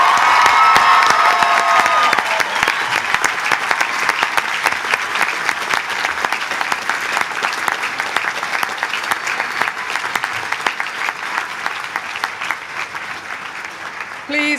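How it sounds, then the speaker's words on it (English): Graduation ceremony audience for nursing graduates bursts into sustained, dense applause filling the hall, with some cheering and shouts mixed in, steady and loud throughout before thinning slightly near the end. "And now you can clap."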